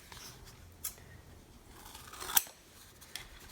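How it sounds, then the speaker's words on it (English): Scissors snipping through soft insole material for a custom orthotic, a few quiet, crisp cuts spaced apart, close by with no talk. "I actually want to cut this into smaller pieces that I can actually"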